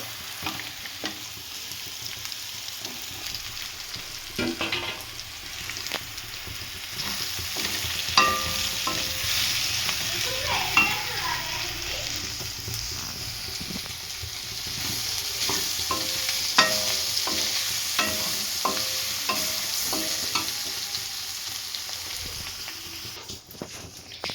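Boiled, peeled potatoes go into a pan of potato curry and are stirred, with continuous frying sizzle and repeated scraping and tapping of the spoon against the pan over a long stretch, no voices.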